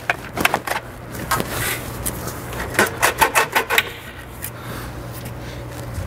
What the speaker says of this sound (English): Go ahead and pull down on the intercooler side.